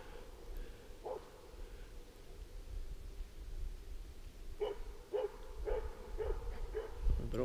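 A six-month-old dog named Garp barks at a moose, one early bark then a run of five or six sharp barks in quick succession, moderately close over rustling outdoor background.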